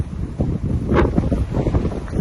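Strong gusting wind in a snowstorm in Brooks, with gusts of 50 to 60 km/h, roaring steadily and loudly against the microphone with a swelling gust midway.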